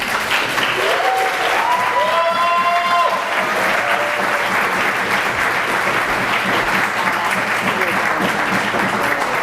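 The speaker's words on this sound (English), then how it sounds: "Let's give another round of applause." Sustained, loud audience applause following a keynote address at a YMCA camp retreat, dense and even clapping that fills the whole stretch, with some cheering voices rising briefly near the start.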